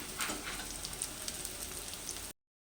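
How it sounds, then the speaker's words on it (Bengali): Ground pepper, coriander and cumin frying in a pan, a soft steady crackling sizzle at low volume that cuts off abruptly. "দু মিনিট মশলাগুলো ভেজে"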